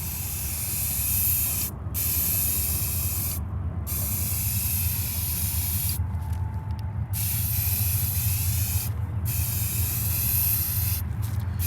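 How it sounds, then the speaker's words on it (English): An aerosol spray paint can hisses in long, continuous bursts with brief pauses, close and loud, while a wall-mounted greenscreen is being painted. No talking. "You don't never want to go and start just spraying spray paint."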